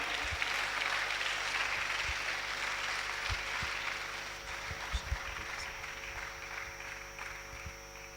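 Continuous crowd applause from a school assembly of students and teachers, a steady broadband patter of many hands that thins slightly toward the end, with a few sharper thumps and knocks mixed in and no clear speech.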